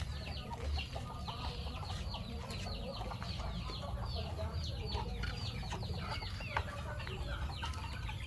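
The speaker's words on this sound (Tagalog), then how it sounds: "Diri kini diri mao ni ang mga pure native chicken." Pure native chickens on a chicken farm, many hens clucking and chattering continuously at close range in a dense, steady chorus, with people talking faintly underneath.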